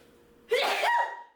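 A single sharp sneeze bursts out close by after a moment of quiet, then trails off.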